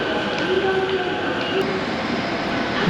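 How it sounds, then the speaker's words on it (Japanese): A Musashino Line train pulls into a Japanese station platform, a broad steady rumble with faint tonal whines from the motors, heard close and continuous. "武蔵野線の電車がホームに入線してきました"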